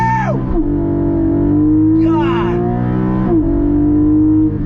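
A 2021 Porsche Cayman GT4 PDK engine roars hard and close in a launch-control start, pitch climbing through gear shifts as it accelerates; a man briefly exclaims over the noise.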